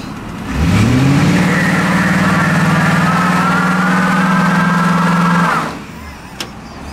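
A turbocharged Ford Crown Victoria with a posi rear end does a burnout spinning both tires, its engine roaring loud and sustained at high revs for about five seconds before dropping off abruptly.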